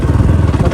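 A dirt bike engine runs up close near a river in Chitwan, Nepal, giving a loud, steady, rapid pulsing drone with no talk over it.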